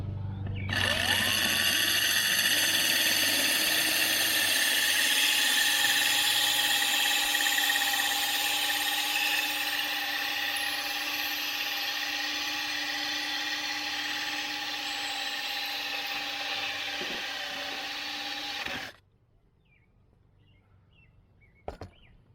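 A power drill bores a hole in a cheap ceramic bonsai pot with water, a loud steady high-pitched whine that holds for about eighteen seconds and then cuts off, leaving faint room sound.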